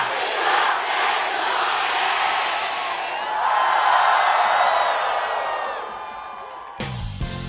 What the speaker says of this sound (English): Both of those cheers were recorded and can be heard at the end of the game's credits.